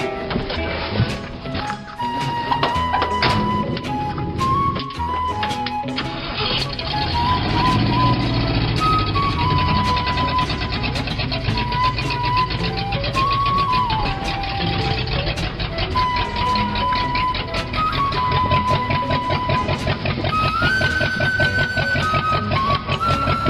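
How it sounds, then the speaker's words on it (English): A 1975 Ford F100 muscle truck engine cranks and fires, then runs with a rough, uneven rumble, with loud mechanical clatter and rising and falling revs throughout. "Let's start this thing up and get to business."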